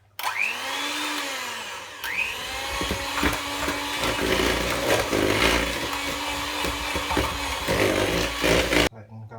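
An electric hand whisk mixes cake batter made with water and vegetable oil, its motor whirring steadily and loudly for most of the stretch with rattling against the bowl before cutting off near the end.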